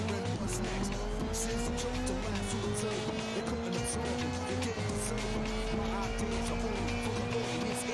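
A car drives in the Forza Horizon 4 racing game, a steady engine drone with rising and falling tones and tire squeal, while a person talks over it and background music plays.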